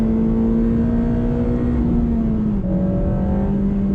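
A Honda Civic Type R FD2 Mugen RR engine revs high and steady around 8000 to 9000 rpm, its whining pitch holding and then dipping slightly, loud and close with no talking.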